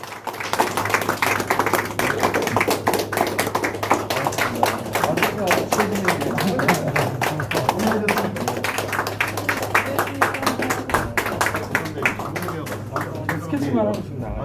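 Audience clapping at a party members' meeting in Chungbuk for candidate Lee Jae-myung, dense rhythmic claps running steadily throughout under a constant low hum, with voices mixed in.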